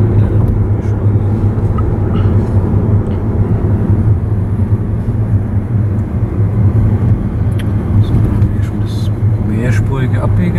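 Car accelerating out of a curve during a driving lesson, a loud, steady engine drone and road rumble from inside the cabin lasting throughout.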